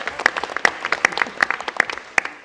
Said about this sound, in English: Can we have a round of applause for David Stainer?